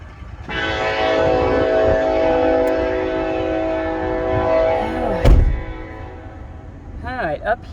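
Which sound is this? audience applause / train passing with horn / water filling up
train passing with horn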